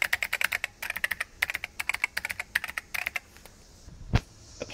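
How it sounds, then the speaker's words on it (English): Typing on a CNF USB/PS2 numeric keypad fitted with Alps white switches: a rapid run of crisp, close key clicks in uneven bursts, with a short pause near the end and one heavier thump. "This is what it sounds like when you type on it."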